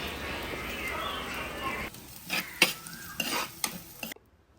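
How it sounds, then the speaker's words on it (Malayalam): Fenugreek, onion, ginger and green chilies sizzle in coconut oil, first as a steady hiss and then in short bursts of stirring and scraping before it goes quiet. "അപ്പം നമ്മൾ നല്ല ഉലുവയും ഉള്ളിയും ഇഞ്ചിയും പച്ചമുളകൊക്കെ ഇട്ടിട്ട് നമുക്കൊന്ന് വഴറ്റിയെടുക്കാം കേട്ടോ"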